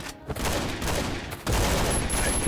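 Gunfire in the survival game Last Island of Survival, a loud, dense fusillade of rapid shots that continues without a break and surges again partway through.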